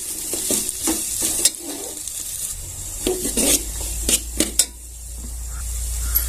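Grated coconut stirred and roasted in a pan, with a spoon scraping and clinking irregularly against the metal over a soft, continuous sizzle, close and fairly loud.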